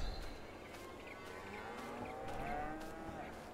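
Holstein dairy cows mooing in the farming game Farming Simulator 22, with several drawn-out lowing calls rising over a steady barn and ambient hum at moderate volume, no talking.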